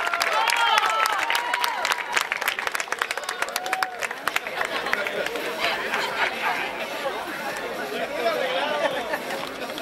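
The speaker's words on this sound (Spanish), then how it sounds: "¡Un aplauso, compañeros!" An audience at a gala awards night breaks into sustained, lively clapping for the winners of a volleyball tournament, with crowd chatter mixed through the applause.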